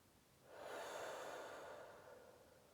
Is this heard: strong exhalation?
yes